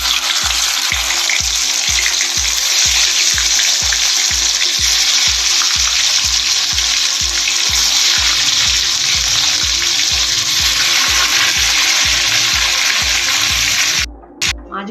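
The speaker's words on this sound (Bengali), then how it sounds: "একইভাবে আমি বাকি মাছগুলোও ভেজে নেব।" Pieces of bhetki fish fry in hot oil with a loud, steady sizzle, close up and continuous, with a regular low pulsing beneath before the sound cuts off abruptly near the end.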